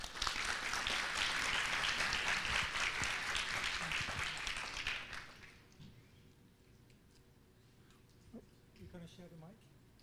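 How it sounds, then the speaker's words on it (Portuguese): An audience at an evening lecture applauds loudly with a broad wash of clapping that fades out after about five seconds, leaving quiet room noise and a voice speaking. "Uma salva de palmas, por favor"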